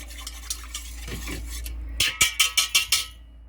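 A metal whisk scrapes and clinks against the inner pot of an Instant Pot while breaking up small pieces of beef suet, starting with soft stirring and ending in a run of about seven sharp, evenly spaced taps.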